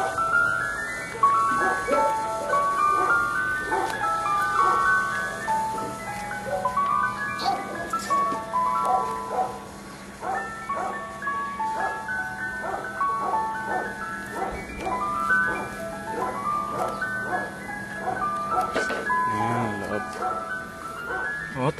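An ice cream truck's jingle plays loudly and continuously as a repeating tinkling melody, with a dog's whimpers and yips and people talking nearby.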